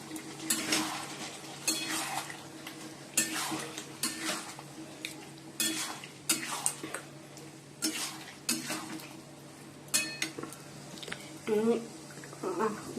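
Chicken is stirred into a pan with tomato, chili and soy sauces, producing repeated scraping and clanking of a spatula on metal over a soft sizzle, with a voice speaking at times.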